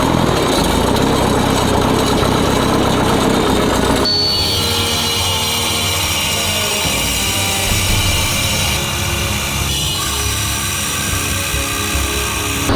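A Lanz Bulldog-style tractor engine runs loud and close in freezing conditions after a cold start with starting fluid. Its rough, rattling chug drops to a steadier beat partway through, and no speech is heard.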